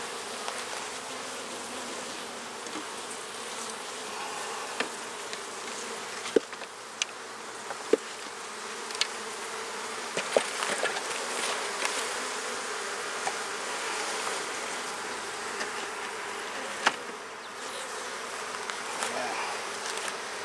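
Honey bees buzzing around an open hive during an inspection, a continuous soft drone with occasional louder buzzes of single bees passing near, and faint clicks of handling throughout.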